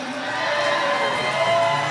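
A crowd cheers and whoops for Fiesta royalty at a San Antonio celebration, a continuous roar of voices with shouts rising over the din, loud and sustained.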